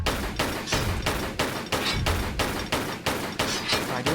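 Rapid gunfire in the video game Tomb Raider III, a steady rhythmic string of about a dozen sharp shots in quick succession, loud and close with no speech.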